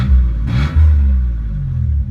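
A 1991 Toyota pickup engine revs up loud and close, a rough rumbling growl rising briefly before settling into a steady throaty idle with no talk over it.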